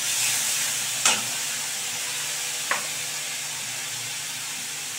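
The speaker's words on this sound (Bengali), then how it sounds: "পেস্টটাকে অ্যাড করে দিয়ে তারপরে কিন্তু ভালো করে আমি মিশিয়ে নিচ্ছি" Spice paste stirred in a pan while making a cabbage sauce, a steady soft sizzle and hiss throughout with two brief scraping clicks of the utensil, no voices.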